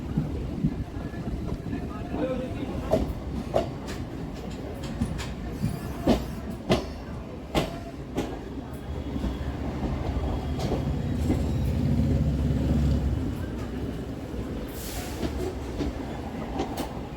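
A Kolkata circular rail train rolls into Dum Dum Junction with a steady rumble and rhythmic clickety-clack of wheels over rail joints. Sharp clanks punctuate the run, with wind buffeting the microphone and a voice speaking now and then.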